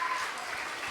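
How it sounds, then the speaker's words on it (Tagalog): A congregation at a worship service claps in praise of God, a steady dense wash of applause lasting under a second with no gaps. "Magbigay ng isang malakas sa palakpak ng pasasalamat, ng pagpupuri sa ating Panginoon."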